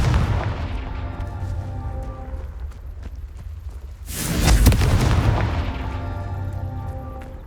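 Confringo fire-blast spell cast in Hogwarts Legacy, a sudden loud burst with a crackling, booming tail that fades over a couple of seconds against game music and ambience.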